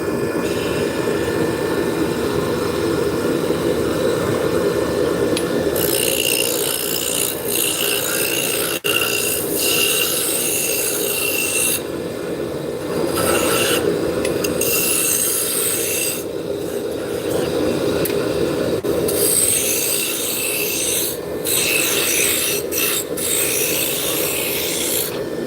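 A woodworking lathe spins at its top speed of 3,564 RPM, giving off a loud continuous whirring hum, with rasping bursts from cutting that come and go over it.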